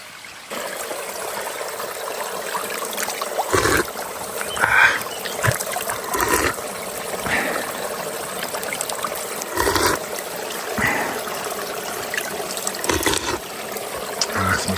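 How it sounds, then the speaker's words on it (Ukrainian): Mountain spring water trickles steadily over stones in a Carpathian forest stream, a continuous gentle babble close by with a few brief knocks and rustles, no voices over it. "Смачна вода гірська."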